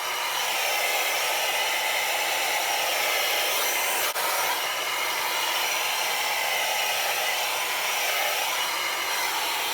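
Hair dryer blowing hot air while drying hair before a round-brush styling, a steady loud whooshing roar that runs continuously and alone throughout.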